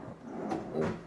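A bathroom drawer in a single-sink bathroom slides open or shut with two soft, close scraping strokes, quiet and alone.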